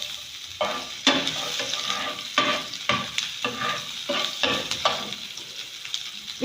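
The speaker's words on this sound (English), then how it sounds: "So I want to add my onions now." Onions added to hot oil in a frying pan for samosa filling, a steady sizzle and fry broken by rhythmic scraping stirs of a utensil against the pan, close and fairly loud.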